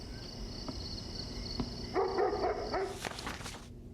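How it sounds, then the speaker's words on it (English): In the video game Devotion, a dog barks a few times at middle distance, with short yips and whimpers that fade out at the end, over a quiet ambient hum. "Because there's a dog barking here."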